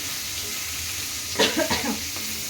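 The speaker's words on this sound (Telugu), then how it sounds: "ఇది మంచిగా ఫ్రై కావాలి" Ridge gourd peel fries in hot oil, giving a low steady sizzle with a few brief louder crackles and stirring scrapes near the middle.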